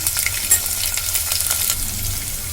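Curry leaves and turmeric sizzle in hot oil in a pan for poha upma, a close, steady crackling fry with light spatter pops and occasional stirring scrapes.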